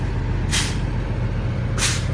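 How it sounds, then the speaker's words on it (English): Two sharp hissing bursts of air from a truck's brake system as the pedal is pumped to bleed off pressure, each about a quarter second long, over a steady low engine idle. "you're gonna pump on the brakes like 3 times to lose pressure."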